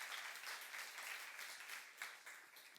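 A church congregation at a youth service applauds in praise, a continuous wash of clapping that sounds faint and distant and stays steady throughout.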